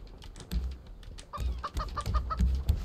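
Birds in the survival video game Raft cluck and chatter in a rapid, repeated series of short calls, fairly close and moderately quiet, with no talking over them.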